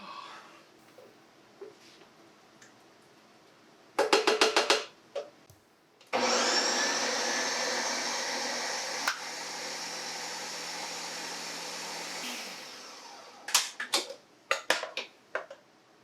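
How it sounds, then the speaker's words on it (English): A food processor blending hummus runs in a steady, loud whirring roar for about six seconds, framed by short bursts of clattering and rattling before and after, with faint background sounds. "we got a food processor that worked. A blender, whatever you want to call it. It blended it up."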